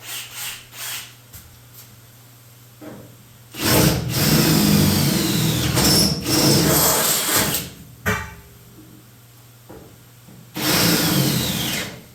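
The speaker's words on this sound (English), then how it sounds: "25/64 drill bit for these rev nuts" Power drill boring holes with a resharpened 25/64 drill bit for rivnuts while building a custom bed cover for a 1975 Chevy C10 pickup, loud whining bursts of several seconds each, separated by quieter pauses.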